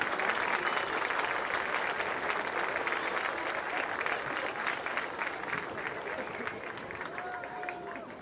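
A festival audience applauds at a comedy show during the Fiesta del Productor in Añelo, steady crowd clapping that holds for several seconds and slowly thins, with faint voices mixed in.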